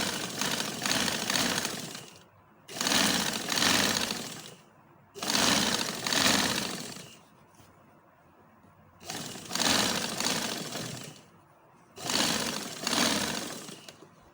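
An electric sewing machine stitches a shalwar in five loud, sustained runs of rapid, even whirring, separated by short quiet pauses.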